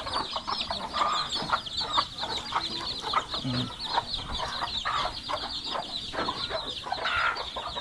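A flock of chickens clucks steadily near the water being poured for them, a dense continuous chorus of short overlapping calls at even loudness throughout.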